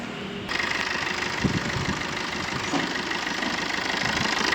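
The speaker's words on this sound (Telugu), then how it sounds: "ఇంజన్ కూడా సౌండ్ స్మూత్ ఉంది" 2017 Maruti Suzuki Swift Dzire VDI diesel idling, a close, steady low rumble with a faint rhythmic knock, after a short click near the start.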